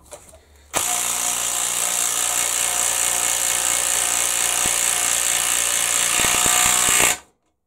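A Bosch GDR 18V-EC brushless 18-volt impact driver drives a screw in one continuous, loud, close hammering burst lasting about six seconds, then stops abruptly.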